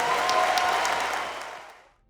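A church congregation applauds in a dense burst of clapping that stays steady before fading out within about two seconds.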